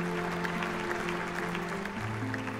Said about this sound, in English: Let's give a round of cheer for our graduates.